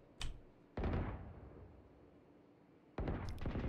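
Gunshots in the video game Valorant: a sharp crack, then a heavier shot with a lingering tail, and after a quiet gap another loud burst of fire.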